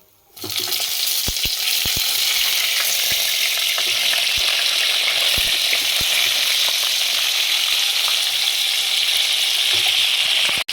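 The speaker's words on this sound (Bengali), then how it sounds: "এবার আমরা তেলে পটলগুলো দিয়ে দেবো।" Pointed gourd (potol) pieces fry in a little white oil in a kadai, giving a loud, steady crackling sizzle with occasional sharp pops and stirring clicks, no voices.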